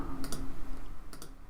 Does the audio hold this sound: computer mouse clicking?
yes